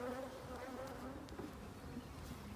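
Carnica honey bees in a bee yard buzzing as a steady, faint drone of many wings, continuous and fairly distant with no talking.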